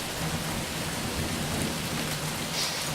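A thunderstorm in Guildford brings a steady roar of heavy rain pouring down at close range, with faint low thunder rumbling in the background and no voices.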